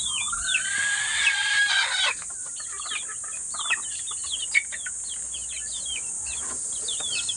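Young gamefowl chicks clucking and peeping in a busy, overlapping chorus, with occasional louder calls and a constant high hiss in the background.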